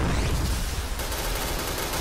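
Gunfire in the online shooter Point Blank, a dense continuous barrage of shots that fills the whole stretch, loud and steady with no pauses.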